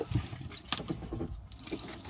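Keys jangle and clink in a bag at close range inside a camper van, a quick cluster of bright metallic rattles with a sharp jingle near the middle, no talking over it.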